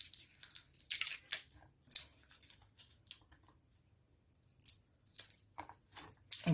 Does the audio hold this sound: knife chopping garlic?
yes